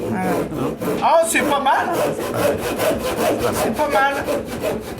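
A hand saw rasps through wood in quick, rhythmic back-and-forth strokes, close and loud, while someone speaks briefly over the cutting.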